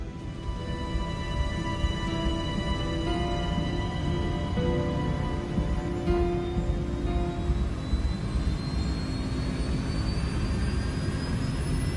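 Jet airliner engines spool up to takeoff thrust with a loud, steady roar and a rising whine during the takeoff roll, heard from inside the aircraft and continuous throughout.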